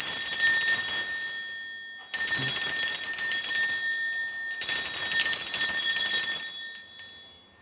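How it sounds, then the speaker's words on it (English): A loud, bright bell rings three times, each ring sustaining and decaying before the next strike, with no voices. "I'm going to ring this bell here."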